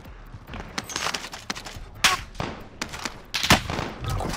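Call of Duty: Warzone gunfire cracks close and loud in irregular bursts, mixing single shots with short automatic strings and a few sharp peaks.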